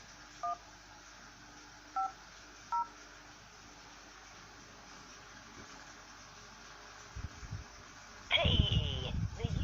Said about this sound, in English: That is making a phone call to EE.